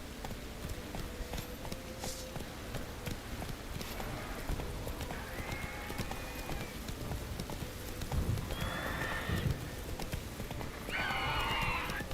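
Roach the horse gallops in The Witcher 3 with a steady clip-clop of hooves and blowing snorts, breaking into several high whinnies toward the end, over a busy outdoor game ambience.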